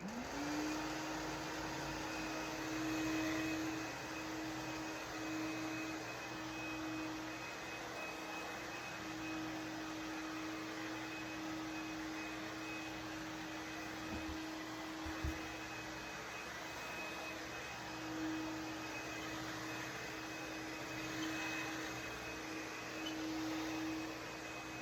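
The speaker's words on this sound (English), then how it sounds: "let's see how this clean air upright does on the carpet" A 1965 Canadian Hoover Dial-A-Matic Model 1122 clean-air upright vacuum runs on carpet with a steady, moderately loud motor whine and airy hum, unbroken throughout with no voices.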